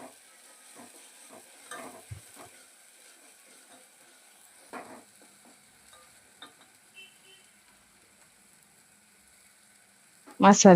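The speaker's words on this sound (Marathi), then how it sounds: "सगळे मसाले घातले आता आणि छान असं परतवून घेऊ आपण तेल सुटेपर्यंत." Spices stir-fry in oil in a pan, giving faint, intermittent sizzling and scraping stirs. The pan is mostly quiet, with a loud burst of noise right at the end.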